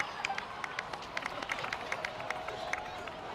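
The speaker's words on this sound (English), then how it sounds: "please give another round of applause for them" Steady scattered clapping, like a small crowd applauding in the Genshin Impact video game, runs throughout with a faint tone humming underneath.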